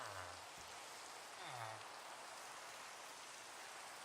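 Steady rain falls in Minecraft, a dense even hiss filling the whole stretch, with a couple of brief low mob-like groans rising briefly above it.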